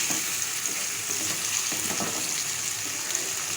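Tomatoes softening in a pan over a low-to-medium flame sizzle steadily with a bright, continuous fry, broken by a few stirring scrapes and pops.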